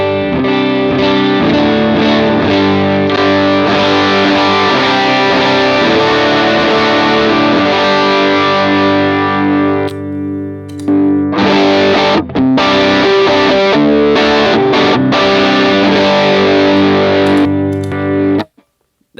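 Electric guitar with an overdrive tone through a Line 6 HX Stomp, loud sustained distorted chords ringing out, then choppier strummed stabs with brief gaps before the sound cuts off near the end.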